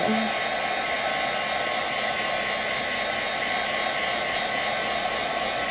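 A hair dryer blows on wet stamped ink on a handmade greeting card. Its close, loud, steady whirring hum holds unbroken from start to finish, with no speech.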